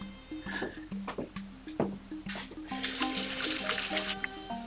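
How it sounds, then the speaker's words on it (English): Hands are rinsed under a running kitchen tap while making orange blossom almond macaroons, a steady splashing trickle of water with a tonal hum beneath it, growing brighter and fuller midway. "I'm going to rinse my hands."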